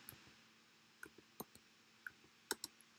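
Keys click on a computer keyboard as a label is typed, a sparse run of quiet, irregular taps spaced apart, close and faint with no voice over them.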